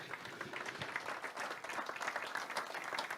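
Audience applause welcoming a speaker onto the stage at a regional business debate, a dense steady wash of many hands clapping throughout.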